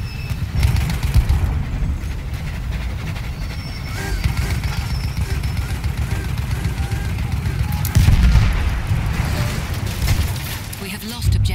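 Gunfire in the video game Battlefield 1, a dense, continuous barrage of shots and explosive booms rumbling through the whole stretch, with voices heard over the battle.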